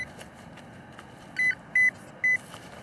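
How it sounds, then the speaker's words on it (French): Three short, sharp electronic beeps from a metal detector ring out close by in a meadow, spaced about half a second apart over a faint background. "je repasse un coup de détecteur"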